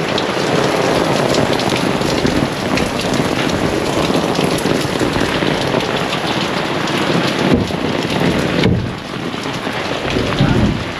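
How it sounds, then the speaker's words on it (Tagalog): Heavy typhoon rain pours steadily in a dense, loud hiss, with gusty wind swelling and easing throughout and a brief lull near the end. "malakas ang ulan at hangin"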